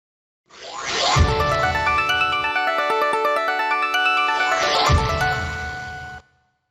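Samsung SPH-A920 phone ringtone, a polyphonic melody of layered sustained tones with a bright swell at the start and again near the end, loud and steady for about six seconds before cutting off.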